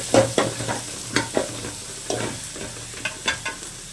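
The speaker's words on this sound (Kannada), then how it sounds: "ಈರುಳ್ಳಿ ಕೂಡ ಫ್ರೈ ಮಾಡ್ಕೊಳ್ತಾ ಇದ್ದೀನಿ" Chopped onions stirred and frying in a pan for a coconut sambar, with repeated scraping strokes of a spoon over a low, steady sizzle, close and moderately loud, with no talking.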